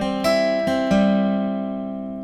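Acoustic guitar playing a riff, a few plucked string notes ringing out one after another, close and clear, then sustaining and fading without any talk.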